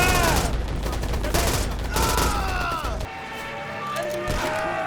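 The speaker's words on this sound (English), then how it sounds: "So you can shoot without being like on something, but it's just hip fire and it's very inaccurate" Hip-fire gunshots ring out in the WW2 video game Easy Red 2, dense rapid bursts of rifle and machine-gun fire layered over each other, loud and close, with a voice talking over the battle.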